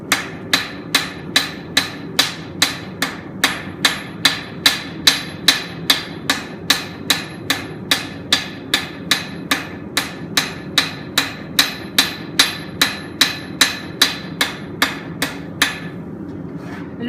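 A steel knife blade is hand-forged on an anvil to shape a bevel, with about thirty-five loud, sharp hammer strikes ringing out in a steady, evenly spaced rhythm of roughly two blows per second.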